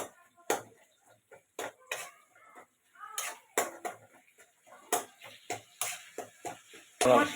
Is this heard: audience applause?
no